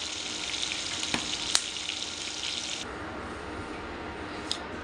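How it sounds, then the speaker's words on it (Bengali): River pangas fish, a 13 kg catch, lightly frying in a pan, giving a steady bright sizzle throughout with a couple of sharp pops, the hiss easing somewhat near the end. "হালকা ভেজে নিচ্ছি।"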